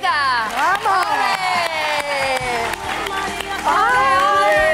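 A studio audience on a Spanish television show cheers, shouts and claps loudly as a singer is welcomed, with excited voices rising over continuous applause throughout.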